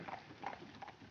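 Horses' hooves clip-clop steadily on a street in a 1953 film noir scene, a moderately quiet rhythmic trotting heard over a low background murmur.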